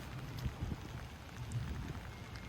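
Rain falls steadily on an outdoor golf course, a faint, even patter with low rumbling wind, no voices during the short stretch.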